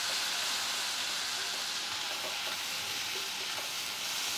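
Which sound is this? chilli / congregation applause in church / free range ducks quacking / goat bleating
chilli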